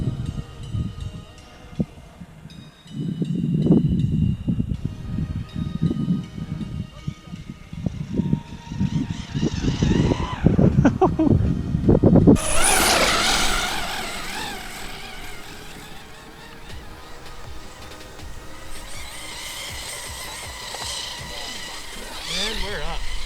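A Soyee S921 RC car running through snow at part throttle, its electric motor whining and surging in short bursts, then a louder, denser stretch of motor noise and churning snow, with voices talking over it.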